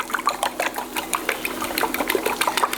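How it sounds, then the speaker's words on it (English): A fork rapidly whisks eggs in a bowl, producing a fast, steady rhythm of close metallic clicks and taps that runs without a break. "we'll get just a fork out, give these a whisk up"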